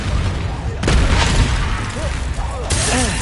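Confringo fire-blast spell in Hogwarts Legacy, a loud booming explosive burst with crackling impact noise, followed by a second blast near the end amid game effects.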